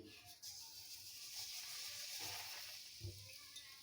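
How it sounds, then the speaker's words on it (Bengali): Semolina fries in a little ghee with a soft, steady sizzle and faint hiss, quiet and close, plus a few light stirring knocks against the pan. "ওই একই ঘিয়ের মধ্যে সামান্য পরিমাণে ঘি দিয়ে সুজিটা ভেজে নেব।"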